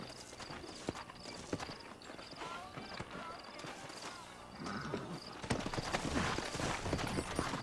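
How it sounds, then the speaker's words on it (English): Sturdy horses in New Ulster walk along with steady, fairly quiet clip-clopping hooves in an irregular rhythm over a busy outdoor background. "You ain't gonna find sturdier horses than these in all of New Ulster."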